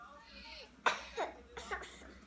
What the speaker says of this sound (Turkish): Öksür tamam mı?